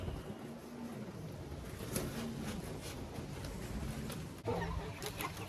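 Chicks and hens cluck and peep softly in a henhouse, near a nesting box with an egg collector, under a steady faint noisy background with no talking.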